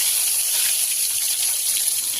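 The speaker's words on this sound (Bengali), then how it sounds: "দেবো আমি শুকনো লঙ্কা তেজপাতা" Dry red chillies and bay leaves hit hot oil in a kadai, producing a steady, loud, close hiss of sizzling that holds evenly throughout with no speech.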